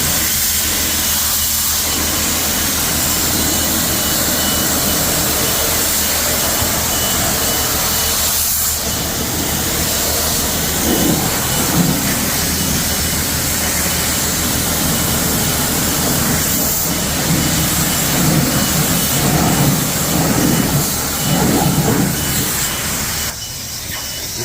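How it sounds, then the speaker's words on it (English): A pressure washer blasts mud and salt off a truck and car trailer, a loud continuous hissing spray that shifts in tone as the jet moves across surfaces, with no talk. "Now, it's time to wash all the mud and salt off the truck and off the trailer before I return the trailer."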